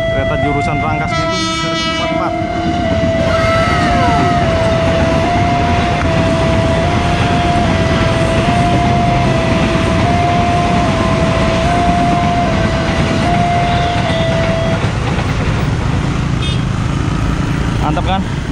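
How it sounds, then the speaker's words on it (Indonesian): Passenger train bound for Rangkasbitung rolling past a level crossing, a loud steady rumble of wheels and cars throughout with a long sustained horn-like tone, and people talking over it. "Kereta jurusan Rangkas Bitung."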